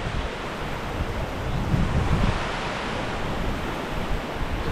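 Wind gusting across Derwentwater lake in the Lake District, a steady broadband roar buffeting the microphone with a stronger swell midway, no voices.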